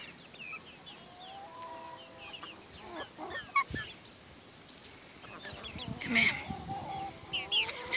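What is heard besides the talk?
chickens clucking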